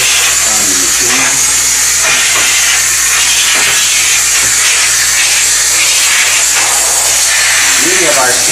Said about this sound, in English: We're going to allow our steam to come out.